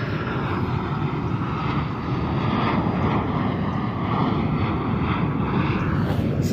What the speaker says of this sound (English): It's a jet that just flew past.